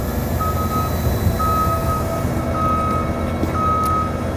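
Fire truck outriggers and lift raising a vehicle at a fire station, with a steady series of evenly spaced electronic warning beeps sounding over a constant mechanical rumble.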